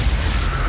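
Crucio curse spell going off in Hogwarts Legacy, a dense low rumbling boom with steady crackling energy throughout, loud and close, no pauses.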